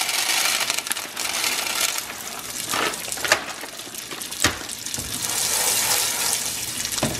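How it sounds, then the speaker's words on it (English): Popcorn kernels for black pepper popcorn are poured into a pan of hot bacon grease, giving a steady close sizzling hiss broken by a few sharp rattling clatters of kernels landing. "So now I'm just going to pour my popcorn in there"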